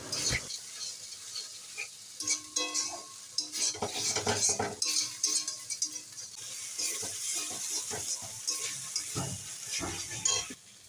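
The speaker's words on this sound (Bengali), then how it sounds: "যতক্ষণ না তেলটা ছেড়ে আসছে এভাবে হালকা হালকা করে নিচে দিয়ে নাড়াতে হবে।" A spatula stirs chilli and tomato sautéing in oil in a pan for a Bengali fish-head and pumpkin-greens chorchori, with continuous scraping and clinking over a faint sizzle and no talk.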